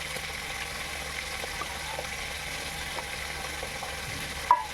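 Fish curry gravy simmers and sizzles steadily in a pan after water is added, with soft stirring scrapes and a small clink near the end.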